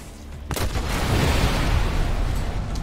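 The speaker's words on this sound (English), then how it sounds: "That was a big explosion." A big explosion erupts in the zombie game Dead Island 2, a sudden loud boom giving way to a long rumbling roar with crackling and popping, close and heavy throughout.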